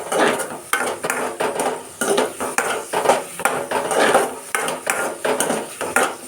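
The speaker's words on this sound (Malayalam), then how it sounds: "ഇനി ഇതിലേക്ക് ചുവന്നുള്ളി നീളത്തിലരിഞ്ഞത് ഇത് നന്നായിട്ട് വഴറ്റി കൊടുക്കാം" Sliced shallots and garlic being sautéed in a pan, with a steady run of spoon-on-pan scrapes and clinks over a soft sizzle, close and fairly loud, no talking.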